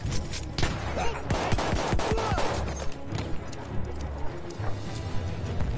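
Gunfire in Battlefield 1, a World War I shooter game: repeated sharp shots and bursts over a dense battlefield din of explosions and rumble, close and loud throughout.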